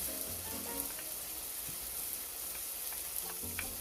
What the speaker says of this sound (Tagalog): Kapag mainit ang mantika, ilagay natin ang white onions.